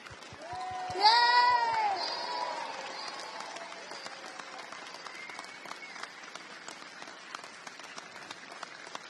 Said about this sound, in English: a huge round of applause for today's winners, the Legends team